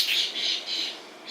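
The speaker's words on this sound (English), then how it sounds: "the starlings have landed" Starlings land nearby and squawk, giving a few harsh, shrill calls in quick succession, moderately loud and close.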